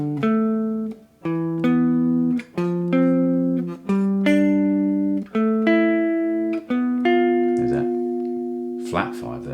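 Guitar sounding a sequence of fifth intervals, each pair plucked and left to ring for about a second, roughly eight clean steady dyads, with a brief scratchy strum at the very end.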